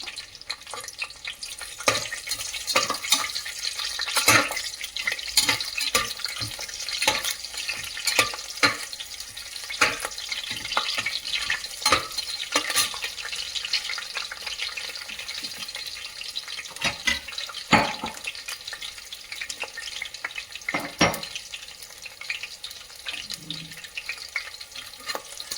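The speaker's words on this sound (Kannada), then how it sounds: "ಇವನ್ನೆಲ್ಲ ಸ್ವಲ್ಪ ಫ್ರೈ ಮಾಡ್ತೀನಿ" Green chillies, bay leaves and whole spices frying in a pan for chicken biryani, a continuous close sizzle broken by repeated clattering stirs and scrapes, with no voices.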